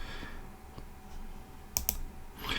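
Computer mouse clicking to close a window in Windows: two quick, close clicks in fast succession, fairly faint against a steady background hum.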